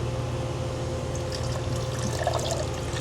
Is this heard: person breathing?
no